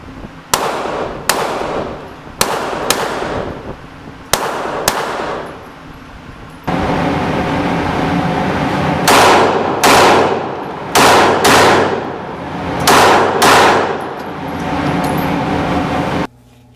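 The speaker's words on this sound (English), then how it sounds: "So I went and fired at the range. I'll go ahead and show you that now." Taurus TCP .380 pistol fired at an indoor range, sharp loud reports in quick pairs and strings with echoing tails, roughly a dozen shots spread over the stretch with short pauses between groups.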